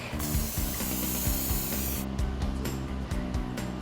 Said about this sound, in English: I have a half sheet here. I'm just gonna spray so it doesn't stick.